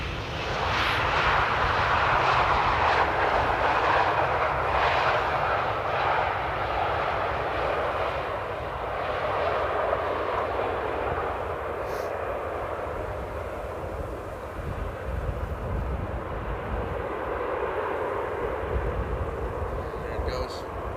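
A Qatar Airways Boeing 777 airliner on approach to Schiphol Airport at sunset, its broad engine roar steady and fairly loud for the whole stretch, with a voice talking over it.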